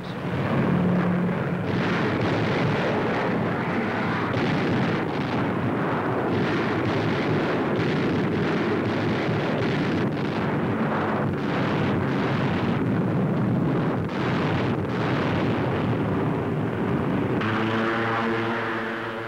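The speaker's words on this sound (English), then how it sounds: "Now, low-flying B-25s unload tons of delayed action bombs." Low-flying B-25 bombers drop delayed action bombs over Italy in 1943 wartime newsreel footage, producing a continuous loud roar of engines and rumbling explosions that lasts throughout, with a clicking mechanical rattle near the end.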